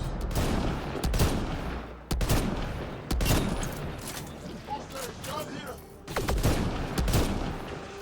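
Bursts of gunfire in Mass Effect Andromeda multiplayer, repeated volleys of shots with short gaps between them, close and loud, with game voices speaking over the fighting.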